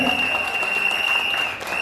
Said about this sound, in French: je demande que l'on applaudisse très fort pour les autres